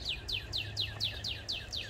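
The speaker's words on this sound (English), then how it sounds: "I hear you, bird." A bird sings a steady run of repeated chirping phrases, about seven evenly spaced calls over two seconds, heard fairly close in a garden among vines and branches, with a low hum underneath and no talking.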